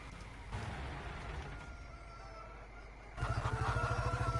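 A Mahindra tractor engine idles in a Farming Simulator 19 farm scene, a low steady rumble that grows louder and more pulsing near the end as faint ambient farm sounds continue underneath.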